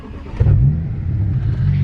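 A BMW E92 335i with a manual clutch, under electrical rebuild, cranks and catches close by, giving a deep, loud rumble that settles into a steady idle.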